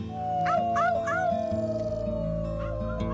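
Two voices in the video game Life is Strange 2, the brothers Sean and Daniel, howl together like wolves, imitating the animal with rising, wavering cries over a sustained low game tone.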